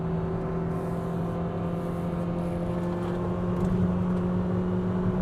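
A 2021 Mitsubishi Xpander MPV held in third gear accelerates with a steady, humming engine drone and a constant whir, heard from inside the cabin, with no talking.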